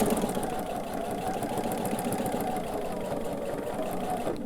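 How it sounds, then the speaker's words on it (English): A sewing machine stitches quilt binding with a steady whirring hum that runs continuously, close and even, and slows near the end for backstitching. "I am going to sew to here and then about 1 inch past and backstitch a little bit"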